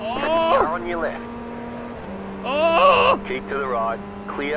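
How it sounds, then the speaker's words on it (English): Race car engines in a sim racing video game wail loudly and close, their pitch climbing and dropping in two bursts as cars pass, over a steady low drone. "Car on your left."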